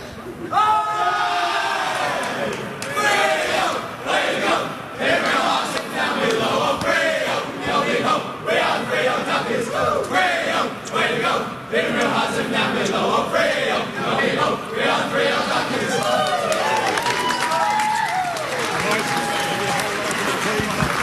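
Crowd at an AFL football match, Fremantle versus Gold Coast, singing the team song after a win, a loud, dense mass of voices sustained throughout with steady chanting swells and cheering.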